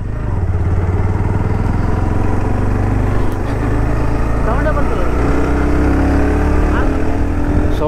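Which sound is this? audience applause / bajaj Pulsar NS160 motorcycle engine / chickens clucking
bajaj Pulsar NS160 motorcycle engine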